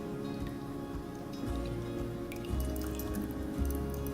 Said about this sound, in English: So I'm just gonna let this simmer until the sugar is dissolved.